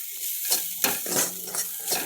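Fish curry masala sizzles and fries in a pan while being stirred, with repeated scraping strokes and light clinks of a spoon against the pan over a soft, steady sizzle.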